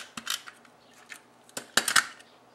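Scissors snipping through a stack of paper punch-outs, several sharp, crisp cuts in irregular bursts, close and clear in a quiet room with no talking.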